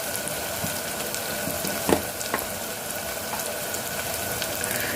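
Pieces of snail cook in hot oil for a curry, giving a steady close sizzle and crackle throughout with a brief stir-like clatter near the middle.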